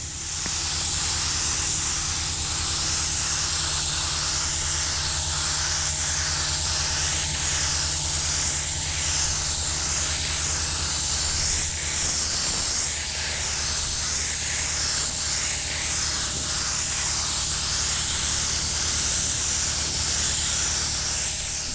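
An air-powered spray glue gun lays adhesive onto a car headliner for a custom starlight install in a Box Chevy, a loud, continuous hiss running unbroken throughout with a faint steady hum underneath.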